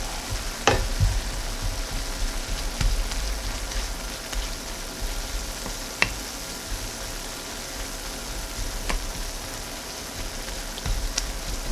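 Pieces of tempeh fry in a pot with a steady close crackling sizzle, broken by occasional sharp scrapes and clacks as they are stirred, with no voices.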